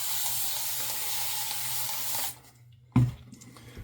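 Water splashes onto mint-chocolate shaving soap from a running tap, a steady broad hiss that cuts off abruptly, followed by a short burst of spattering.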